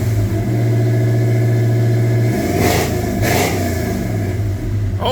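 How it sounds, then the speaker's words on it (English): A Ford F100 with a drag racing engine idles loudly and roughly up close, then revs hard twice in quick succession before settling back to a lumpy idle. "Oh, that's a race motor."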